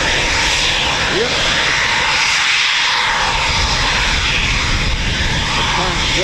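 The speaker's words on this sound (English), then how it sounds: "One of the older Typhoons, ZJ950." Eurofighter Typhoon FGR4 jet, one of the older airframes, at RAF Coningsby: a loud, steady engine roar fills the whole stretch without letting up, with faint voices beneath it.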